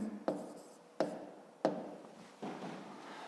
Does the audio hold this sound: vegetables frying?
no